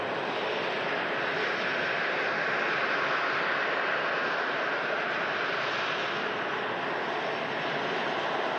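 Steady, full-bodied roar of a Ryanair jet aircraft arriving at Manchester Airport, a continuous broadband rumble that holds loud and even for the whole stretch with no voices over it.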